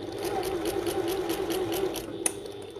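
A sewing machine stitching a bucket tote bag runs in a steady, close whirring rhythm of rapid needle strokes, then winds down and stops with a small click.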